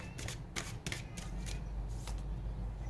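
Tarot cards are shuffled and drawn by hand, a quiet run of crisp riffling bursts and slides at close range, a few in quick succession and then a softer, steadier rustle.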